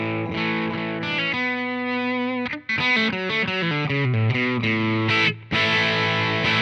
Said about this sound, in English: Marshall amps, Plexi style amps in general, the EQ isn't massively powerful